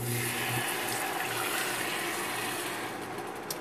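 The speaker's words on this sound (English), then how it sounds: "We're going to add 2 more cups of water." Water pouring into a pan of stewing beef and onions that has cooked down almost to frying, a steady loud continuous rush and splash lasting the whole moment with no talking.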